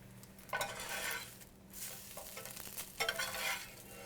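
Omelet sizzling in a frying pan on a stovetop, with a steady low frying hiss broken by a few louder bursts of scraping and stirring from a utensil against the pan.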